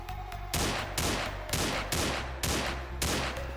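Rapid bursts of gunfire in the video game Wolfteam repeat about twice a second, loud and sharp, each volley cutting off abruptly before the next.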